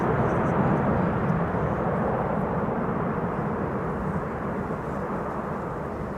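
A passenger airplane lands on the Kaagbaan runway at Schiphol with its thrust reversers deployed, a loud, continuous roaring rumble that slowly eases off, with no voices.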